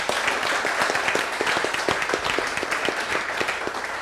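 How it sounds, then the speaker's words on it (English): Audience applause for panelists at the close of an evening panel discussion on accessory dwelling units (ADUs); steady, moderately sized clapping from a room of people, continuous and even throughout, with no voices over it. "How about a round of applause for our panelists?"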